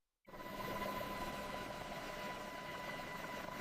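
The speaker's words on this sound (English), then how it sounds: "It was the unmistakable sound of attack helicopter rotors cutting through Arctic air." AH-64 Apache attack helicopter rotors and engine start abruptly at an Arctic airfield in Greenland and continue as a steady, droning roar with a rhythmic thrum.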